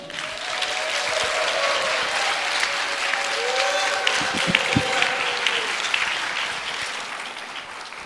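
Sustained, dense applause from a church conference audience welcoming a pastor to the stage, steady and fairly loud throughout, with a few faint voices mixed in.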